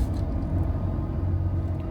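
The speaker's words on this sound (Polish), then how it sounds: "nie będę teraz gadał, bo jadę samochodem, to i tak słyszycie silnik głównie" Low engine rumble from inside a moving car, a steady droning hum with faint road noise and no speech, sustained evenly throughout.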